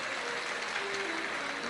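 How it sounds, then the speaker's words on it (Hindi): Steady crowd applause at a Shiv Puran religious gathering in Bathinda, Punjab, welcoming the host family, a continuous even wash of clapping with a faint tonal hum underneath. "एक बार यजमान परिवार श्री अमरजीत जी मेहता जी के लिए जोरदार ताली बजाकर स्वागत वंदन"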